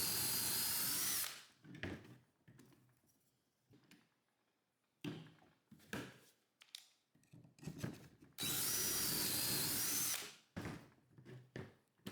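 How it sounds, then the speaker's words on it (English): A power drill bores pocket holes into wooden parts, two long steady bursts of whirring at the start and near the end, with shorter bumps and handling noises between them. "I add pocket holes on both ends of one face of each of the 4 and 9½ inch parts."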